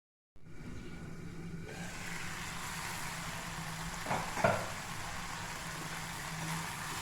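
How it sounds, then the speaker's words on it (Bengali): A masala spice paste stir-fried in a pan with added water: a continuous close sizzle and hiss, joined at about four seconds by a few louder scrapes of a spoon. "এইভাবে 10-15 মিনিট কষাবো মশলাটাকে"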